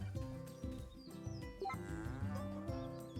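A cow in Story of Seasons: A Wonderful Life moos loudly and close up, one long drawn-out low call with a musical game soundtrack playing underneath.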